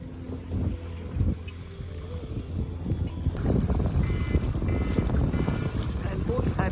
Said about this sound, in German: Manchmal gleitet das Dinghy sanft übers Wasser